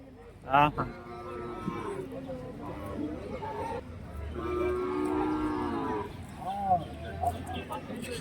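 Cattle moo loudly and close at a busy rural cattle market in Orappam, Krishnagiri district, with long drawn-out lows repeating amid chatter from people talking and general market bustle.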